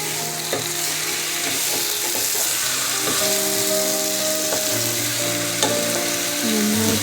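One kilo of chicken sizzles steadily in a hot pan with biryani masala, stirred through with occasional scraping knocks of the spoon, loud and close with no talk.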